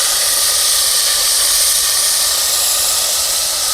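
Onion and tomato gravy hits a hot pan in a Gujarati paneer masala, giving a loud, steady, bright hissing sizzle that holds evenly without a break.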